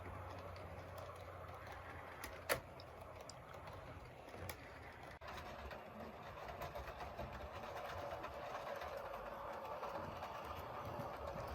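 A model commuter train on a Swiss-themed layout rolls along with a continuous whirring motor and fine clicking over rail joints. A steady mechanical hum sits close and even throughout, with occasional sharper ticks and no voices.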